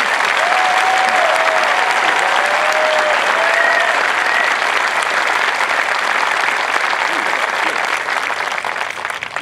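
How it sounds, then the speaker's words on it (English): A large crowd at a 2018 Air Force basic military training parade gives a full, continuous round of applause for graduating airmen, with a few whistles rising above the steady clapping. "Let's give a round of applause to all these airmen today."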